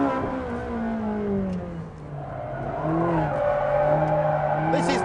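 A car's engine pulls hard in fourth gear with a rising, sustained drone that climbs steadily in pitch, loud and continuous throughout.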